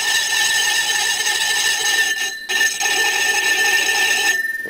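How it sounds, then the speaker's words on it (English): An old junk cutter is held against the edge of a tractor rim to deburr it, producing a continuous high metallic squeal and scraping tone with a brief break midway. "I'm using this old junk cutter for a deburring tool, just sort of hold it in there"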